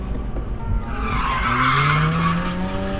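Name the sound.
Mazda RX8 drifting, tires skidding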